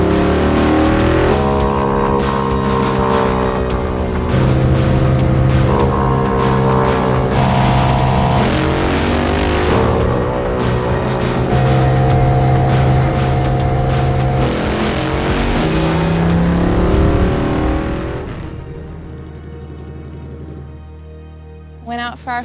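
A Royal Enfield 650 Twin motorcycle makes a speed record run on the Bonneville Salt Flats, its engine loud and close, rising through several gear changes with pitch sweeps before fading away as the bike recedes into the distance.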